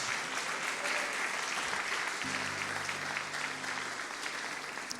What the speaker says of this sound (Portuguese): Então aplauda ao Senhor e glorifique o seu nome por isso.